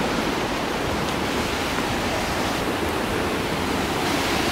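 Big ocean waves break at Snapper Rocks beach in Australia, a loud, steady wash of surf roaring continuously without pause and no voices over it.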